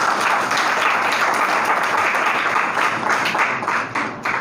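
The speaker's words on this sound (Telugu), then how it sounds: "ఆ పేద దైవ సేవకునికి ఒక్కసారి మనం క్లాప్స్ కొడదాం" An audience at a Christian seminar in Kadapa claps steadily for a poor servant of God, a dense, continuous roll of applause filling the hall throughout, tapering slightly near the end.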